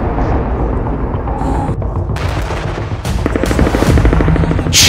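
Air strikes on Khan Younis, Gaza: loud, dense booming and rumbling with sharp bursts layered on top, a continuous heavy roar of explosions.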